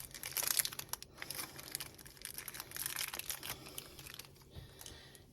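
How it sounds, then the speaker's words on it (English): A plastic package being torn open near the microphone, with irregular crinkling and crackling bursts throughout, fairly quiet and with no talking. "Guess that's how you open the package."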